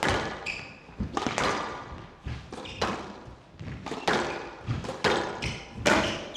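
Squash ball strikes and thuds echo around a court during a professional match between Momen and Makin, a rapid, irregular series of sharp hits and wall bounces with squeaks and crowd murmur underneath.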